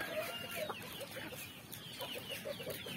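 Native chickens clucking on a farm, scattered soft clucks and calls in a steady, somewhat distant flock chatter against a hissy background.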